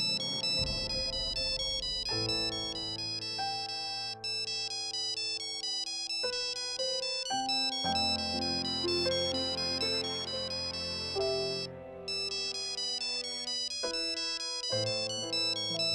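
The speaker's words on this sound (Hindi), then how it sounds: "उमी भैया, आपका फोन।" A melodic phone ringtone plays continuously, a bright synthesized tune repeating its pattern with no voices over it.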